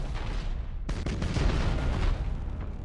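Warships open fire in Battlefleet Gothic Armada, with a sudden heavy barrage of booming cannon blasts rolling over a low, constant rumble and fading into a continuing roar.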